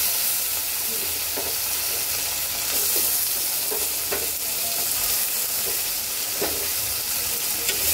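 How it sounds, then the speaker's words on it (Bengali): Potatoes and onions fry in hot oil seasoned with cumin seeds, dried red chilli and bay leaf for an egg curry, giving a steady loud sizzle with occasional scraping stirs, no voices. "এর মধ্যে এখন দিয়ে দেব কেটে রাখা আলু আর পেঁয়াজ।"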